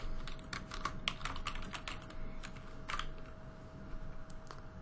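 Rapid keystrokes on a computer keyboard while writing code, a quick irregular clatter of individual key taps with brief pauses, close and clear with no talking.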